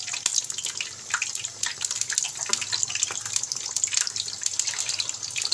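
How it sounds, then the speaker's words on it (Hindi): Crispy potato snacks frying in moderately hot oil, a steady dense sizzle with constant crackling pops throughout, fairly loud and close, with no voices. "ऑयल गर्म हो गया, मैं इसमें ये एक एक करके डालना शुरू कर दूँगी।"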